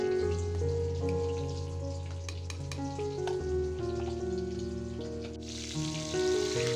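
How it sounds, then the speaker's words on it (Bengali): Eggplant and hilsa fish fry together in a pan, giving a continuous, crackly sizzle that sits under prominent background music throughout. "আর এই যে বেগুন আর ইলিশ মাছ আমি একসাথেই ভেজে নিচ্ছি"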